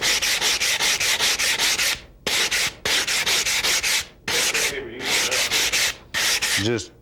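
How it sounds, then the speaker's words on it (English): Hand sanding with sandpaper on a hand sander during gunsmithing work: loud, steady rasping strokes in long back-and-forth runs separated by short pauses. "All this is just a hand sander with a little bit of sandpaper on it."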